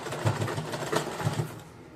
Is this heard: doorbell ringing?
no